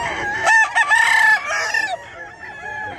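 A gamefowl rooster at the Bocaue market crows loudly and close, one strained call followed by softer clucking, with market chatter faintly behind.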